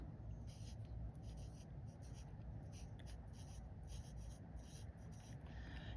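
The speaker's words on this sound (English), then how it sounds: "So we're going to write the name of our figure" Hand writing the word pentagon, soft close scratchy pen strokes in short bursts over a low background hum.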